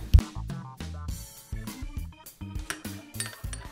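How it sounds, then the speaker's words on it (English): A spoon stirs soy sauce, cooking wine and sugar in a small bowl, giving quick, close, repeated clinks and taps of metal on the dish in an uneven rhythm. "Mix it well and set it aside for now."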